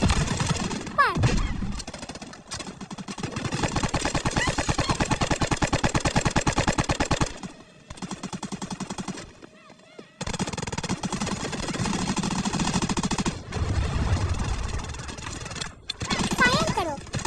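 Dense, sustained bursts of rapid machine gun fire from a mobile shooting game fill the sound, loud and continuous with brief gaps, while a voice talks over the action.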